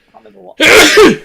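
A single loud sneeze bursts out close to the mic during a Minecraft gameplay recording, following a stretch of faint talk.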